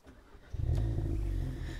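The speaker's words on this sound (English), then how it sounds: "we'll start the vehicle up" An Audi S3 Sportback TFSI quattro Black Edition engine cranks and fires up, rising to a loud, close idle rumble that settles and holds steady.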